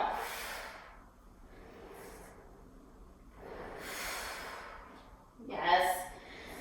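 Long, audible breaths are drawn in and pushed out during a Pilates reformer exercise, with three or four breathy inhale-exhale swells and a sharper snort-like exhale near the end.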